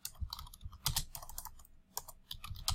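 Fingers typing on a computer keyboard while entering program code, a quiet, irregular patter of soft key clicks with short pauses.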